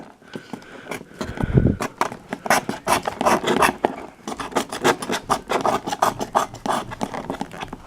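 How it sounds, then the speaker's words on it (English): A glue stick is scraped hard against a wooden desk in quick, rough strokes, making a loud, close rasping scratch that repeats steadily for several seconds. "just scraping off like we're all madmen here"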